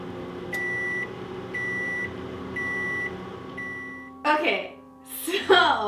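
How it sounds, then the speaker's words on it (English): A microwave oven runs while melting marshmallows for pumpkin spice krispie treats, with a steady hum and four evenly spaced beeps about a second apart, then the door clatters and handling noises follow. "I'm just going to real quick melt this in the microwave"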